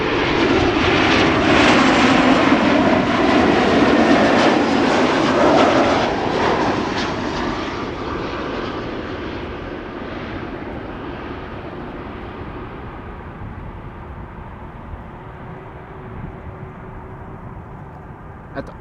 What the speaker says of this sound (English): Embraer 190 coming in, arriving from Dublin.